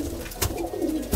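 Pigeons coo softly, a short low burbling call close by with a couple of faint taps around it.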